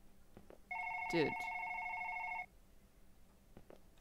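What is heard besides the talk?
phone ringing in One Late Night video game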